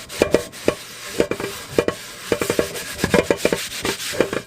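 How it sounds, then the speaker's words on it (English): Rhythmic scrubbing of a cast iron pan washed with dish soap: quick, gritty strokes repeat in short bursts with brief pauses between, close up and with no talking. "I'm barely even rubbing, but you can get and like scrub the little hard spots"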